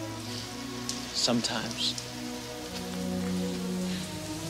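Steady rain falls throughout as a constant close hiss, with a brief spoken word and some other short sounds partway through.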